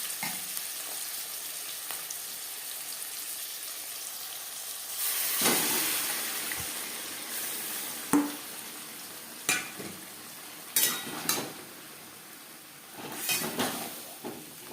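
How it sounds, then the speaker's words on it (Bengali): Marinated shankar fish sizzles and fries in a pan with onions, a steady hiss that swells loudly midway, with several sharp clatters and stirring knocks toward the end. "1-2 মিনিট পেঁয়াজ ভেজে নেওয়ার পর দিয়ে দেবো ম্যারিনেট করে রাখা মাছ।"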